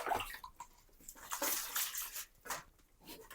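Water splashes and sloshes steadily as ber fruit is washed by hand in a home kitchen before pickling, close up and continuous with no talk.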